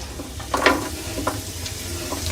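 Almonds and dry dates frying in a pan on low heat for sheer kurma, a soft steady sizzle with a few brief scraping stir strokes.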